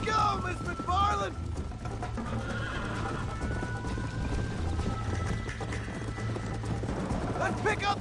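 Horse hooves gallop in Red Dead Redemption with a steady clip-clop rhythm, whinnies breaking in near the start and end, and talk running over the hoofbeats.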